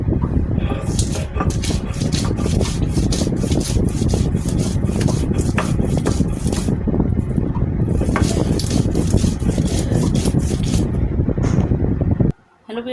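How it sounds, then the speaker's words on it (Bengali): Fried onions are ground by hand on a stone grinding slab, giving a steady, close, rough rubbing and scraping that runs nearly nonstop for about twelve seconds before stopping abruptly. "আর এই পাটাতেই আমি বেটে নেব বেরেস্তা দিয়ে"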